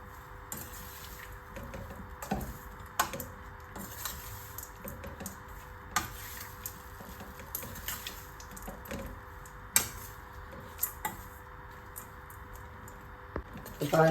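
Cooked rice being mixed with curry leaf mixture and salt in a pot, sparse, quiet clicks and light scrapes of a spoon against the vessel over a soft, steady background.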